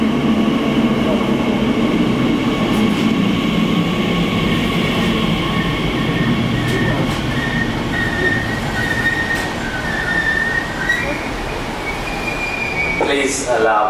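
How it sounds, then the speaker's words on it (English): A Class 345 Elizabeth Line train rolls through Custom House station on its opening day, a loud continuous rumble with wheel squeal and rising whine toward the end, and voices heard over the din. "The train is moving, though."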